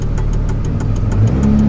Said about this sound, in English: It's a long bed, single cab truck, but the turning radius sucks.